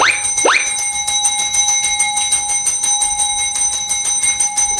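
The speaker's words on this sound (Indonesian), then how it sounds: "tiba-tiba ada pencet bel segala" An electric doorbell rings in a rapid, continuous metallic trill after a couple of opening strikes. It is loud and close, with no talking.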